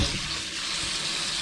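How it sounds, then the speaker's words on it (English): Cold tap water pours steadily over freshly drained pasta in a colander, a close, bright continuous splashing rush with no talk. "we're going to run this with cold water."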